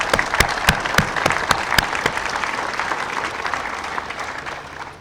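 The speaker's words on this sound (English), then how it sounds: "So would you please give all our state and local officials a round of applause." A seated audience at a grid storage facility dedication ceremony applauds steadily for several seconds, the clapping dense at first and then gradually thinning and fading out.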